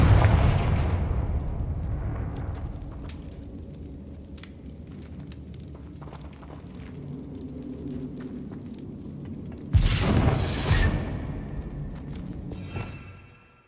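A Confringo explosion spell in a Harry Potter style game erupts as a loud rumbling blast with crackling debris about two thirds through, set over a continuous low game soundscape with scattered small pops before and after.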